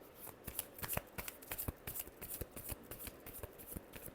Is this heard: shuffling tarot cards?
yes